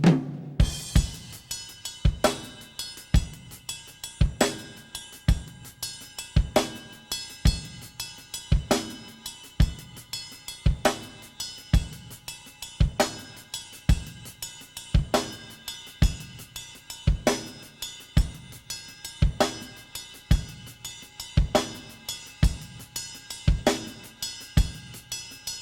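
A drum kit plays a steady 6/8 groove, with the left hand moving between closed hi-hat and snare over bell accents. Sharp, evenly spaced hits repeat close and loud with no talk.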